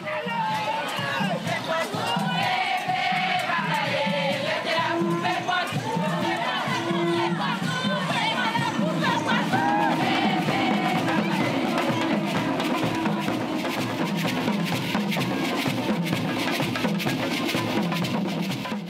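A huge carnival crowd at a Mascaclé parade in Pointe-à-Pitre, Guadeloupe, makes a steady roar of voices, chatter and shouts that holds at the same level throughout.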